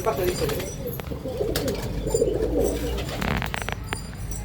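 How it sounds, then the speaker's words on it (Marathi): Flying pigeons coo in low, rolling murmurs close by, with several birds overlapping continuously while someone talks over them. "हे सगळे उडानचे कबूतर आहेत."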